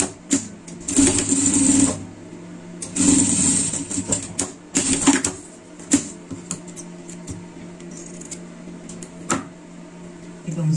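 A home sewing machine stitching a seam on fabric for a pet-costume horn piece, running in several bursts of about one to two seconds separated by short pauses, close and fairly loud, with a few small handling clicks between runs.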